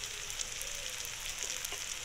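Fried potatoes frying in a pan with chili, coriander and cumin powders and garam masala, a steady, close sizzle with faint stirring touches and no voices.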